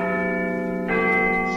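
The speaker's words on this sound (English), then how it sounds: "Let's go live to the chimes of Big Ben." The chimes of Big Ben ring out at New Year, a sustained, resonant bell tone with a second strike partway through that swells the sound, loud and clear with no talking.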